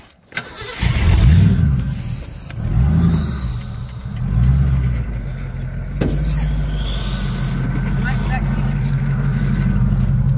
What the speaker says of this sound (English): He ain't rode in a 5-speed V8 in a while.